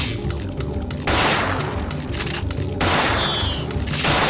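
Rapid bursts of gunfire from the video game Parasite Eve II, loud and continuous, with dense volleys of shots in two sustained stretches broken by brief lulls.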